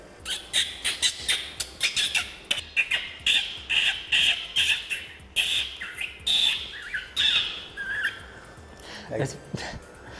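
A person imitates bird calls with a rapid series of sharp, squawking chirps, loud and close, repeating in quick bursts.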